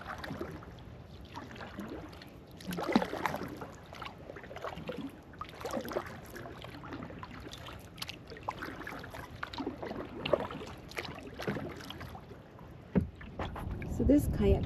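Kayak paddling along a trail on Tarpon Bay, Sanibel Island, bordering the Ding Darling National Wildlife Refuge, with repeated soft paddle splashes and water movement close by, under light wind and a continuous outdoor background.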